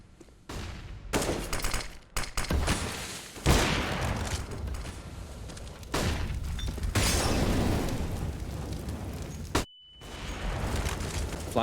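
Gunfire in Counter-Strike: Global Offensive during an Astralis vs Fnatic pro match, with dense bursts of rapid automatic shots and sharp single cracks in quick succession, loud and close, broken by brief gaps and a short high electronic tone near the end.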